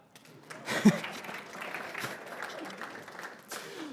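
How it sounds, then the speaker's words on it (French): Audience at a TEDx talk in Dixinn applauding the speaker, an uneven patter of clapping with a louder burst early on, some crowd murmur and a brief voice at the end. "Et j'aimerais que vous m'applaudissiez pour cela"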